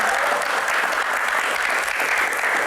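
A crowd at a fan Q&A session with a footballer applauds loudly and continuously, a thick wash of many hands clapping at once with no speech over it.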